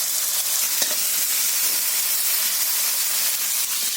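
Spices frying in a pan for a small koi fish curry, with ginger, garlic, tomato, onion, cumin and green chillies in the oil: a steady, close, bright sizzle with faint crackles, no voices.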